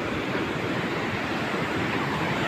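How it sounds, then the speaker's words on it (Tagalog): Powerful sea waves surge against a seawall being built, a dense, unbroken roar of rushing water mixed with wind noise. "Bago, napakalakas ng alon."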